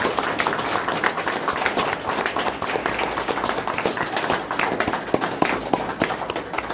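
An audience at a wrestlers' union gathering gives a dense, steady round of applause, with many hands clapping at once and sharp claps standing out here and there. The clapping goes on for about seven seconds without a break.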